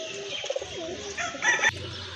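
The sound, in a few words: pigeons cooing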